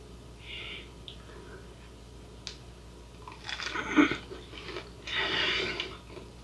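Crispy tater tots are crunched and chewed close to the mic, with soft breathing before louder bursts of crunching that build toward the end, otherwise quiet.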